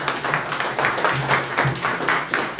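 An audience at a meet and greet in Toronto applauds with steady, moderately loud clapping heard close by.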